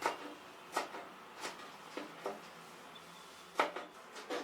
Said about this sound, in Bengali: এটাকে আমি ছোট ছোট টুকরা করে কেটে নিব